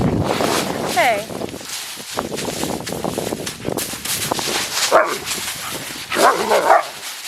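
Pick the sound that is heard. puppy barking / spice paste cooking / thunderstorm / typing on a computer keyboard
puppy barking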